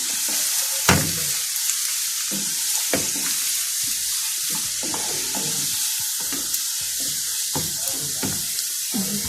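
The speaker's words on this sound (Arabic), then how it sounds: "افضل بقى اقلبها لغايه ما تستوي معايا الخضره السلق." Chard greens stirred and fried in oil in a pan, with a constant hiss of sizzling broken by repeated scraping strokes of a spoon at a steady rhythm, close up and alone.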